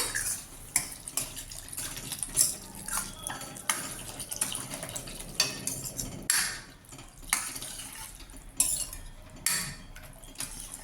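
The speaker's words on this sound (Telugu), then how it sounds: "తగినంత వాటర్ పోయాలండి." Water poured into a pot for a tamarind-leaf rasam in a home kitchen, a soft close splashing trickle with light metallic clinks of utensils and pan, no talking.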